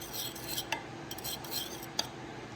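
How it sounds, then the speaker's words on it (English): A spoon stirs coconut yogurt mixed with whey in a container, giving soft, close scraping and a few light clinks over steady background noise, without talk. "And kind of stir that up a wee bit."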